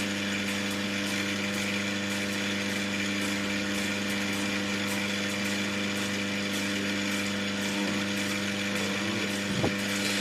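Rough natural Australian opal ground on a 600-grit wheel, a steady close mechanical hum with a constant whine and faint gritty scraping that continues unchanged, and a small knock near the end.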